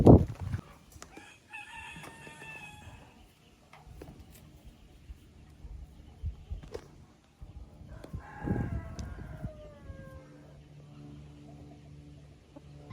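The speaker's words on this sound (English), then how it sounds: "He's got the cutest little crow." A young olive egger rooster gives two short, thin crows, close and fairly faint, with quiet clucking and soft background noise between them.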